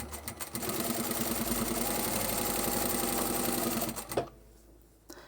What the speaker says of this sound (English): And now I'm going to put the right sides together and sew up the side seam.